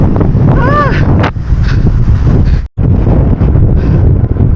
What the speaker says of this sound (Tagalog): Yeah, ganyan kalakas yung hangin.